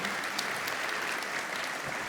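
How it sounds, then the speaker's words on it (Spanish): An audience at an agricultural cropping-systems panel gives a panelist a dense, even round of applause, a continuous, moderately loud patter that carries on without any voices over it. "le agradecemos con otro aplauso"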